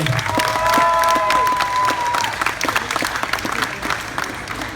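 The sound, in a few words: audience applause for hypnotized volunteers on stage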